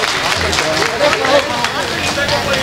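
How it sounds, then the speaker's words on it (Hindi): An audience at a Hindi poetry recital claps amid loud crowd noise and babble, with a steady wash of applause throughout. "तालियां बजा के बताइए कितने लोग सुनना चाहते हैं।"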